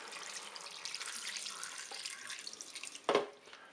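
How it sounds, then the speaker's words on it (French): Tap water runs steadily into a Cookeo multicooker pot over spaghetti, chicken and tomato, a close, continuous splashing pour with a sharper gush near the end. "je vais rajouter de l'eau pour recouvrir au moins les pâtes"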